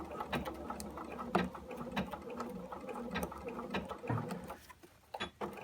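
A sewing machine triple stitching denim for blue jeans near the front zipper runs in a fast rattling patter of needle strokes, with short pauses and a brief stop near the end.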